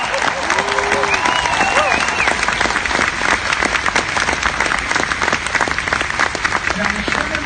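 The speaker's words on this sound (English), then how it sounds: "let's please join me in applauding everyone at D23" A large convention audience at D23 applauds during a tribute to songwriter Richard Sherman, a thick, continuous wash of clapping with some cheering mixed in, and a voice briefly heard over it.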